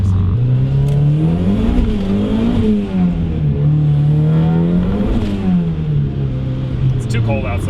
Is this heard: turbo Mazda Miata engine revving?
yes